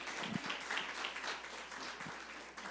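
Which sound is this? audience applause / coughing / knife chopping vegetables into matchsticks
audience applause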